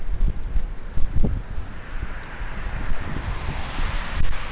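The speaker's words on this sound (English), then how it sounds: "The heavy wind. Here it is." Heavy wind buffets the microphone in a steady, rough roar with gusting surges and rustling, loud and continuous throughout with no voices.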